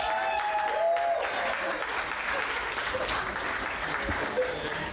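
At a live show, an audience applauds the master of ceremonies with sustained, dense clapping that stays steady for several seconds, and a voice speaks over it at the start.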